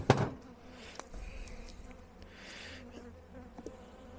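Steady insect buzzing from many honey bees around a hive being tended after winter, close and continuous, with a few handling knocks and clicks near the start.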